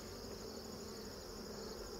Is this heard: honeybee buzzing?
yes